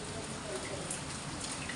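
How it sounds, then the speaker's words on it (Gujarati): Morning rain falls steadily outdoors, a faint even hiss of drops that fills the whole stretch without a break. "ટપક ટપક ટપક ટપક ચાલુ થઈ ગયું"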